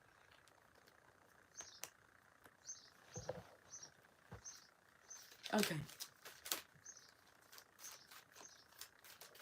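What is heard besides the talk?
birds chirping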